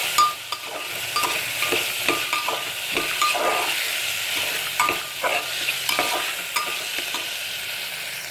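Green peas for betel leaf pulao are stirred and fried in a pan, a steady sizzle broken by repeated scraping strokes and light clinks of the spoon, close up with no talking.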